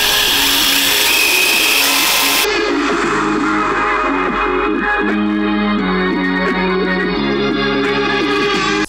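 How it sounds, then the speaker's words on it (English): A power drill with a wood bit whirs steadily and loudly, its motor pitch shifting as it pre-drills a wood board, running continuously throughout. "I'm going to pre-drill the wood board using the wooden drill bit."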